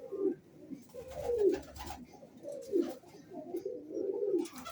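Pigeons of an old 15-to-20-year-bred line coo in soft repeated rolling calls close by, with faint rustling around them.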